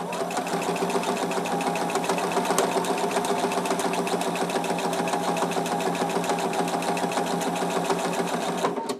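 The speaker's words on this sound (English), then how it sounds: "I'm just going to sew right off" A sewing machine runs steadily for the whole stretch, stitching quarter-inch seams on a fabric face mask with a nose bar, loud and close with a fast even mechanical whir and no voices.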